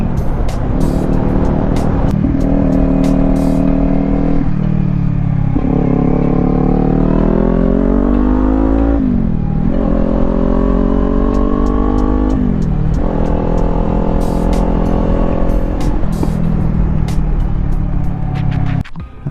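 A motorcycle engine with a stuck throttle, loud and close, revving continuously and rising and falling in pitch through repeated surges for the whole stretch with no pause.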